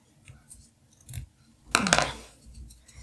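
Scissors snip an oblique edge on a fabric bookmark: a few faint small clicks first, then one crisp, close cut near the middle, followed by soft handling noise in a quiet room.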